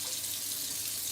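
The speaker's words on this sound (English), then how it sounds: "All right, so out of the faucet here on the west side" Water running steadily from a kitchen faucet into a glass, a continuous bright hiss and splash at close range with no talk.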